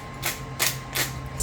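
A pepper grinder twisted by hand over a dish of cucumbers and eggs, three or four short dry rasping bursts in quick rhythm, close and fairly faint, with no one talking.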